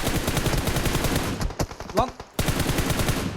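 Gunfire in PUBG Mobile: dense automatic bursts of rapid shots, loud and close, with brief gaps and a short break near the middle before firing resumes.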